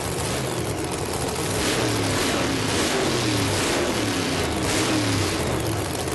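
A drag racing car's engine revs before staging at a Gainesville drag racing event. It gives a loud, continuous throaty drone with rising and falling pitch, close and dominant throughout.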